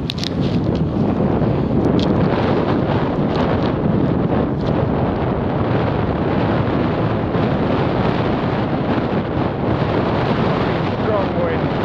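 A strong headwind hits the microphone on an electric bike conversion ride, producing loud, continuous buffeting roar throughout.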